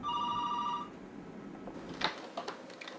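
An office telephone at a treatment institute rings with a bright electronic trill that stops after under a second, followed by quiet room noise and a few faint clicks.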